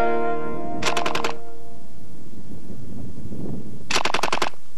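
A C9 light machine gun fires two short, sharp bursts of several rapid shots each, loud and close, separated by a few seconds of low mechanical rumble.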